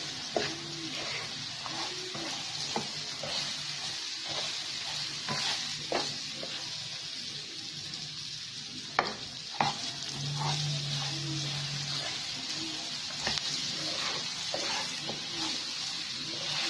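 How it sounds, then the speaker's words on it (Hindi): Raw mango pickle cooking in a pan is stirred steadily, a continuous sizzle and fry under repeated scraping strokes of the spoon, close and fairly loud, with no talking. "इसको चलाते रहना ताकि नीचे से ये लग ना जाए"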